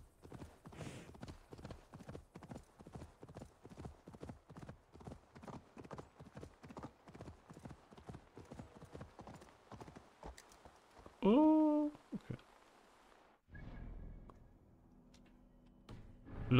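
Horse hooves clip-clop in a steady galloping rhythm while riding in Assassin's Creed Valhalla, close and continuous, followed by a brief whinny and other game sounds near the end, with a voice talking over it.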